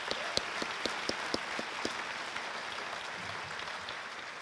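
A high school athletic awards audience gives a state championship round of applause, with a few distinct claps standing out early, then a soft, thinning patter, quiet and somewhat distant.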